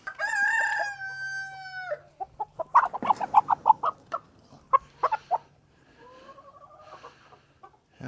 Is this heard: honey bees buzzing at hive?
no